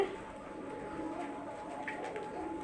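Pigeons in a two-storey home loft holding about a hundred and fifty pairs, with soft, continuous low cooing blended into a steady ambient hum, moderately faint and with no talking.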